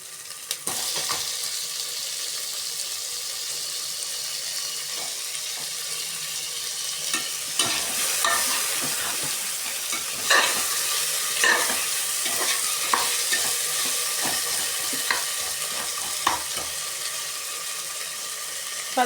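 Tomatoes fry in oil and are stirred in a pan while vegetable biryani is cooked. A continuous close sizzle runs under repeated scraping and clacking from the stirring utensil.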